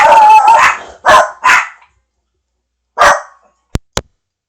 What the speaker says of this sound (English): No idea why the dogs are going crazy.